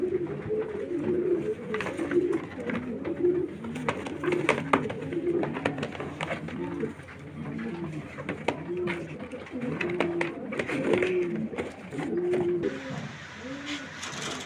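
Many pigeons coo steadily in a loft while they are gathered for delivery, their low rolling calls overlapping continuously across the whole stretch with faint rustling and shuffling among them.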